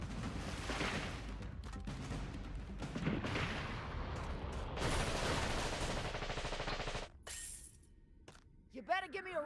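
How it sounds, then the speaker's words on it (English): Chaotic bursts of rocket launcher fire and explosions in the video game Synthetic Man, a dense run of blasts and crackling impacts with a brief lull, then a rising whoosh near the end. "Double gold rocket launchers."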